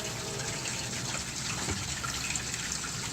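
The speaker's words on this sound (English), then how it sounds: "the water is bubbling up out of there" Water gushes and bubbles up from a broken sump pump drain pipe outside a house, a steady close-up liquid rush with faint drips and no pauses, heard alone without talking.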